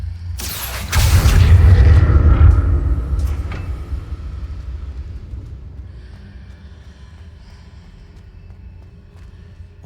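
A Confringo spell bursts in the Hogwarts Legacy video game, a sudden loud booming blast with a crackling onset that rumbles heavily for a couple of seconds, then slowly fades into a quiet, lingering ambient tail.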